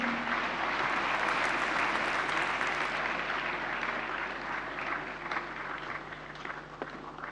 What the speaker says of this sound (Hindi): जोरदार तालियां एक बार फिर से।